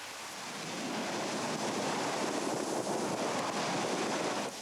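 A lava lake splashes and spatters as gases escape, heard as a continuous broadband roar and hiss like surf, steady and moderately loud.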